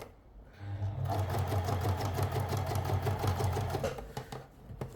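A sewing machine stitching along a seam in a cloche hat, running in a rapid, even whir for several seconds after a brief quiet start, then slowing near the end.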